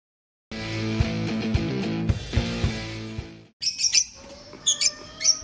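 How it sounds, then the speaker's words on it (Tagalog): Many birds chirp and tweet in a crowded aviary, with sharp, bright calls bursting in clusters after a stretch of rhythmic music fades out. "sobrang dami nating mga ibon dyan"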